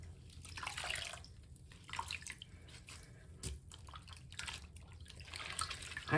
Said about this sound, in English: You can rub them in the water, makes it a little bit messier. You can knead it also on the side of the sink